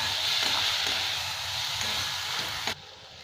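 Tomatoes sizzle steadily in a hot pan with salt added while cooking paneer bhurji, a continuous frying hiss that drops off abruptly near the end.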